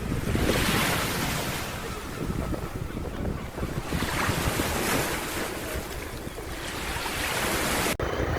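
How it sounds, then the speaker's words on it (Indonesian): Ocean surf breaks and washes continuously on Pudak beach in South Blitar. The sound is loud and close, with heavy wind buffeting the microphone and no voices. "bertemu langsung dengan pasir dan debur ombak pantai Pudak"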